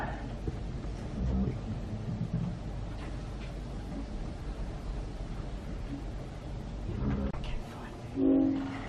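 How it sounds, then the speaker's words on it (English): The Spirit of Queensland passenger train rumbles and rattles as it pulls away from Hingham station in Queensland, its low mechanical drone steady, with a horn-like tone sounding near the end. "Oh, the train's leaving Hingham now."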